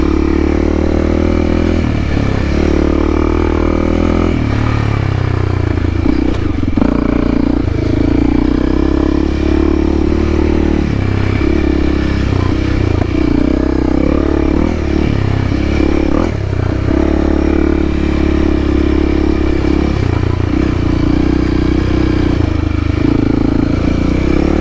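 A Honda CRF300L dual-sport motorcycle is ridden off-road with a mountain bike nearby, its engine a steady, loud drone with occasional clatter and revving swells throughout.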